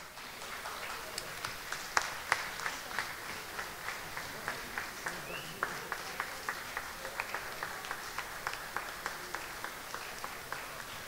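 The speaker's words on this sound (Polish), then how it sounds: "myślę, że należą się im duże brawa" A school audience applauds young performers called onto the stage, steady claps going on for about eleven seconds with a clear rhythmic beat running through the patter.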